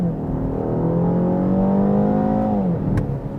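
A 2024 BMW X1 with a 7-speed dual-clutch transmission accelerates from a standstill in Sport mode, its engine note rising steadily and loudly, then dropping sharply at an upshift near the end.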